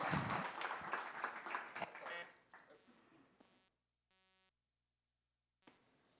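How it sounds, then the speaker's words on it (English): Applause from an audience at a San Francisco startup demo night: a dense, loud burst of clapping for about two seconds that tails off and then stops, leaving near silence. "Round of applause for Todata."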